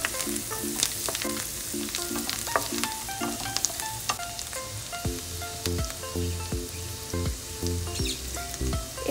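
Garlic, chopped green chilies and coriander leaves fry in melted butter. A steady close sizzle runs with spattering crackles and occasional stirring scrapes, and no voices are heard.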